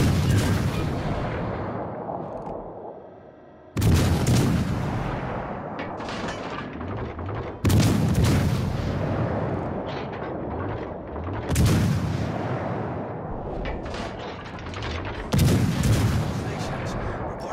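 Heavy naval guns boom in a warship video game, four big blasts spaced a few seconds apart, each followed by long rumbling decay and crackling explosions, loud and close, with no one speaking.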